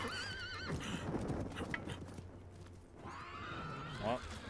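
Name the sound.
horse galloping away in a video game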